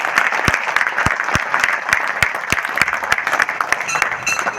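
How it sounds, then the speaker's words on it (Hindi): Loud applause fills a meeting hall as a newly named committee president stands to be welcomed, dense clapping with sharp, rhythmic claps standing out, close and steady throughout. "खड़े हो भाई साहब, जोरदार तालियों से स्वागत।"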